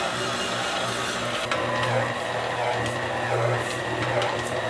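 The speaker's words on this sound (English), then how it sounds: "your dough has smoothed out and it's going to start shaking your mixer a little bit" A stand mixer kneading bread dough, a steady mechanical whir with rhythmic knocking and rattling as the machine shakes, running continuously.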